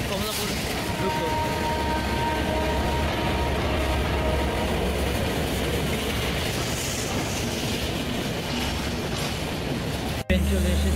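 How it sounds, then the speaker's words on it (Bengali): Ekota Express intercity train rolls into a station, a loud continuous rumble with wheel clatter and rail noise, ending in a sharp knock, with voices heard faintly amid the din. "ট্রেন চলে এসেছে"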